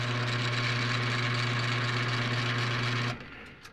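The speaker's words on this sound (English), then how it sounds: "I just tucked in the lathe just to see if it spins true" A lathe spins a part from a 1970s Ford alternator to check that it runs true, giving a steady, loud motor hum that cuts off abruptly near the end.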